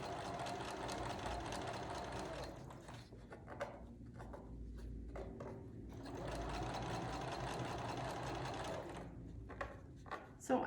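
A sewing machine stitching quilt blocks in fast, continuous runs, with a short pause in the middle before stitching resumes, quiet and close-up.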